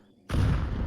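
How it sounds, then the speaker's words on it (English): A flashbang grenade in CS2 detonates abruptly after a quiet moment, a single loud, close burst that holds as a harsh ringing wash. "Flashbang out."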